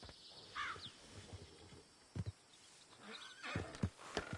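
Horses in the Red Dead Redemption 2 video game whinny and neigh at moderate distance, with a few clip-clop hoof steps scattered through, the whole scene fairly quiet.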